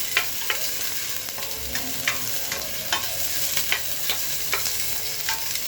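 Garlic and onion frying in a little oil, a dense steady sizzle broken by quick rhythmic scrapes and taps of a spatula stirring the pan every half second or so.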